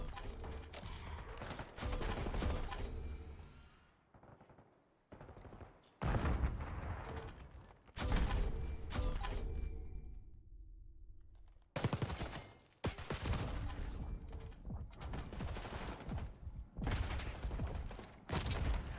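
Bursts of automatic gunfire in a Call of Duty Black Ops 6 gunfight, loud, rapid volleys broken by short quiet gaps and a near-silent stretch midway, with a voice talking over parts of it.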